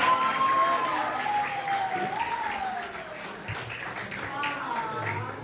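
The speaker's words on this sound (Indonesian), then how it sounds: "Tepuk tangan sekali lagi buat Bang Aska dan Bang Hari" An audience at a seminar session applauds, a steady wash of clapping from a crowd heard under a voice speaking over a sound system.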